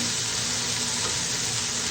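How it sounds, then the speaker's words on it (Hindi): Water being poured into a pan of fried masala while making beef karahi, a steady broadband pour with sizzling mixed in, continuous and close for the full two seconds with no talk. "अब इसमें डालेंगे पानी"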